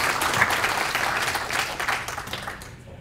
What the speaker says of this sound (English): Deserving of another round of applause.